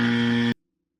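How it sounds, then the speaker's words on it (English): A quiz-game buzzer on a home-repair show gives a single loud, flat electronic tone lasting about half a second, then cuts off sharply into silence. "Buzzers at the ready."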